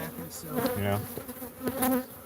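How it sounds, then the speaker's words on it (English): Africanized killer bees buzz close by in a wavering, uneven drone of overlapping wingbeats, rising and falling over a couple of seconds. "These are all Africanized. They're all killer bees"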